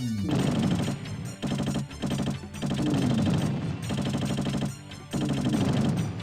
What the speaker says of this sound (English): the columns are shooting?